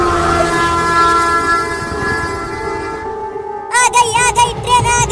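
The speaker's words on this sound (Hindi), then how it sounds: "आ गई ट्रेन आ गई, ट्रेन आ गई।" A cartoon train pulls in with a loud, sustained horn over a rumbling rattle of wheels, then the horn stops and a wavering, excited voice-like sound follows near the end.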